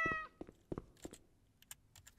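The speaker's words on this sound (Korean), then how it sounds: "고양이" A cat meows in a horror video game, one short tonal cry at the very start, followed by a scatter of soft clicks and taps in an otherwise quiet scene.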